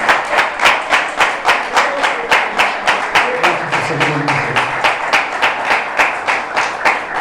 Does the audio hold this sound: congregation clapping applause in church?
yes